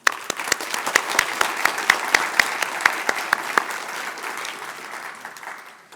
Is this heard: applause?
yes